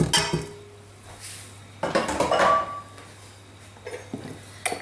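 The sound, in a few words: mixing butter and dark brown sugar in a mixing bowl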